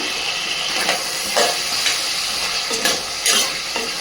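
Tomato, potato and turmeric fry and sizzle in a pan, with a steady hiss broken by several short scraping stirs spaced through the moment; no one speaks.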